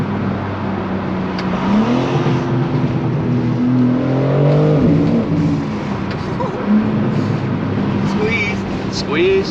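A BMW G80 M3 Competition drives along with a steady engine drone and rising pitch sweeps as it accelerates, heard from inside the cabin with wind noise, continuous and fairly loud throughout.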